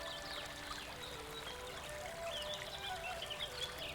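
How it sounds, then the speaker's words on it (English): Water pours and trickles steadily over vegetables being washed in a village kitchen setting, with birds and chickens calling faintly in the background. "Just wash these vegetables casually and it will do."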